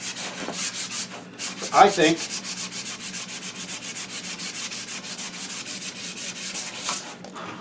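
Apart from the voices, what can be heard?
sanding a wooden stick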